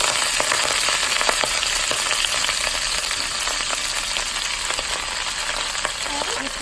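Pre-cut collard greens frying in avocado oil, a steady loud sizzle with scattered pops and crackles throughout and faint clinks near the end.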